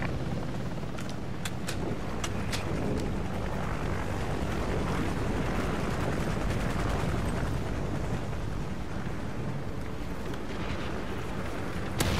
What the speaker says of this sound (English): Ready for deployment. Autopsy chopper inbound.